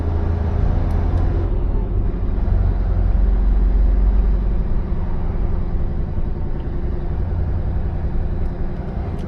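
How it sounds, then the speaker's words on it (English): Steady low rumble of motorway traffic on the M6, heard from inside a vehicle, a continuous engine and road drone with a heavier low-end swell in the first few seconds before settling into an even hum. "these are the joys of traffic. On the M6 motorway"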